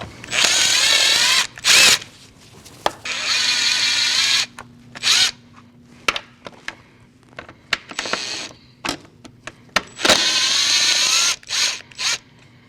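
A power drill spins out the top bolts of the air filter housing on a 2014-2023 Jeep Cherokee, loud whirring bursts alternating with clicks and clinks of metal parts.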